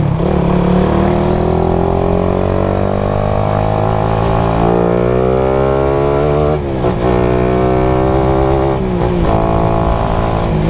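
A Suzuki Satria FU 150, a Thai-built CBU version, revs and climbs through its rising engine note while being ridden, loud and close, with brief drops at the gear shifts.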